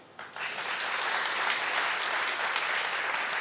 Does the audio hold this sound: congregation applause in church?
yes